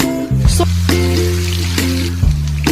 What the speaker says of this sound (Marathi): तेल गरम करून त्यात हिंग, चेचलेला लसूण आणि मिरची टाकली।